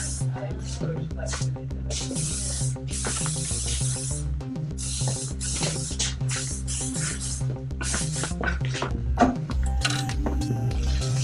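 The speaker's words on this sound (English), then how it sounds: "So a little bit of modern hairspray, just to kind of get those going back." Modern hairspray hisses onto hair in a Balmain-inspired fashion styling, with short, close sprays repeating over steady background music.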